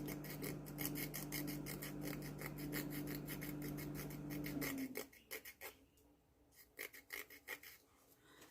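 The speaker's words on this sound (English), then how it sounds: "I'm just going back and forth, trying to get this excess separated from the nail" A nail file rasps back and forth against the edge of a Color Street nail polish strip to remove the excess, first in a continuous close rhythmic scraping over a low hum, then in separate quieter strokes.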